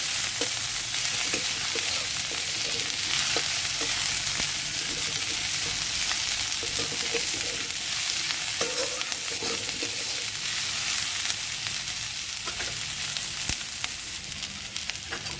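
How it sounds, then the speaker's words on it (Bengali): Onion, garlic and chili fry in oil in a pan with a steady, close, broadband sizzle that holds throughout, broken by occasional light stirring clicks. No one speaks. "পেঁয়াজ, রসুন আর লঙ্কাটাকে ভেজে নিই।"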